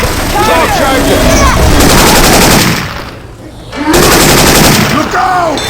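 Rapid automatic gunfire using Syphon Filter weapon sounds in Left 4 Dead 2, dense loud bursts that pause briefly midway and resume, with game voices calling out under the shooting.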